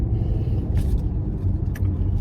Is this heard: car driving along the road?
yes